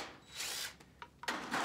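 A power tool whirs in two short, faint bursts while a bolt comes off a Lifan KP200 motorcycle, with small metallic clicks between the runs and no talk.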